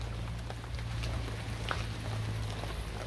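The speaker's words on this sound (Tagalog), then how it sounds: "Ulan kasi." Steady rain falls outdoors near a house among banana plants, a continuous soft patter and hiss with scattered droplet taps, fairly close and even throughout.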